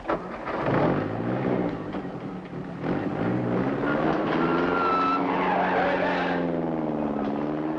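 A car pulls away with tires squealing and the engine rising in pitch, loud at first and then holding a long straining whine as it speeds off, with no one talking over it.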